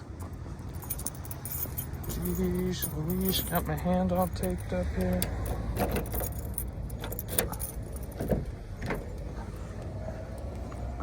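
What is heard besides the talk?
keys jangling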